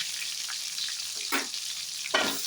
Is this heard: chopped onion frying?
yes